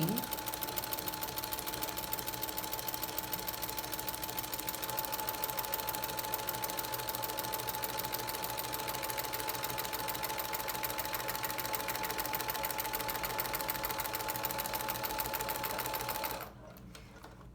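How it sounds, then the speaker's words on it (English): Sewing machine stitching and back-stitching a small fabric scrap: a loud, close, rapid mechanical hum with a fast rhythmic needle beat, running continuously before stopping abruptly near the end. "Now when I sew, I like to use a piece of fabric to start my sewing"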